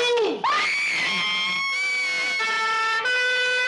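A loud wailing siren rises sharply, then holds a steady high tone with a brief dip near the end, close and continuous.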